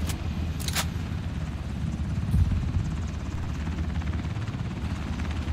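Steady helicopter rotor and engine drone outdoors near a waiting aircraft boarding passengers, continuous and fairly loud throughout, with a brief sharp rattle early on.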